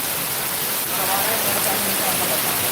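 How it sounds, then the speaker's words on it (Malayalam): Heavy rain pours down in Punjagutta, Hyderabad, with fast-flowing floodwater rushing past, a dense, continuous roar that stays loud and steady throughout. "ശക്തമായിട്ടുള്ള മഴ നല്ല ഒഴുക്കോടെ വെള്ളം പോകുന്നു"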